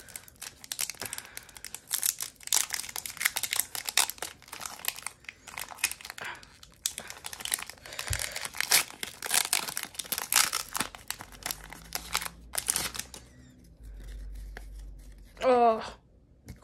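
A Pokemon Vivid Voltage booster pack wrapper torn open and handled, close crinkling and crackling foil in dense bursts, a short rip near the end, with scattered talk between.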